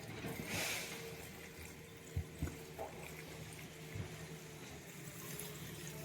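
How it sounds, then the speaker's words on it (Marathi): Water pours steadily from a farm irrigation pipeline in a field, a continuous close rushing wash with a few dull knocks partway through. "एवढं पाणी पडतंय बघा"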